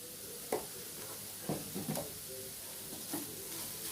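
Carrot and bean fry stirred in a pan with a spoon, giving soft scrapes every second or so over a faint, steady sizzle, heard close and alone.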